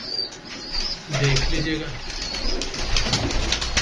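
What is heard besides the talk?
pigeons cooing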